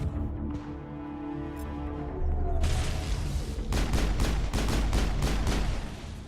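Gunfire in the Mass Effect video game on the Virmire mission, a quiet hum that gives way to a loud run of sharp, rapid shots repeating close together, alone without talk.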